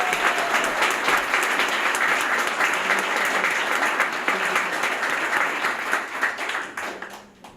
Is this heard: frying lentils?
no